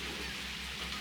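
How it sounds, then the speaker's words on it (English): Heavy, cold rain pours down near Mackinac Island, a dense continuous hiss of drops on surfaces with a low rumble underneath, heard alone. "it is raining horrendously"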